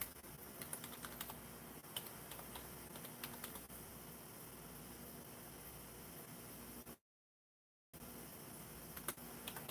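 Quiet clicking of fingers typing on a computer keyboard, irregular bursts of keystrokes near the microphone, with one brief gap of silence.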